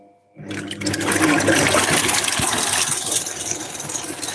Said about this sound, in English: now I'm going to whisk.